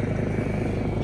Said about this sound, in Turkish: Japon helikopteri tepemizden geçiyor dağın başında.